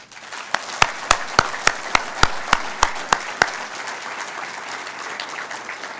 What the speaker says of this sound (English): please join me in a well-deserved round of applause for your invaluable encouragement